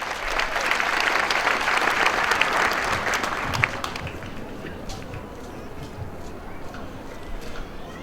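An audience at a 24-hour cancer fundraiser event applauds a speaker to the microphone, dense clapping that is loud for about four seconds and then thins into scattered claps and crowd murmur.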